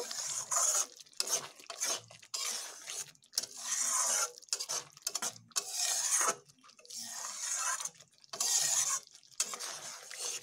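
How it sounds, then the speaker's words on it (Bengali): Garam masala being stirred into a jackfruit seed curry in a pan, with repeated scraping, rubbing strokes of a spoon against the metal, coming in bursts separated by short pauses, close and fairly loud. "এবার এই গরম মশলাগুলোকে আমি একটু ভালোভাবে এর সঙ্গে মিশিয়ে নেব।"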